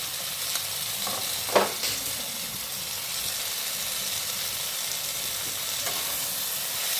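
Vegetables, eggplant among them, fry in a pan as ginger-garlic paste goes in, a soft steady sizzle with one brief stirring clatter, no voices.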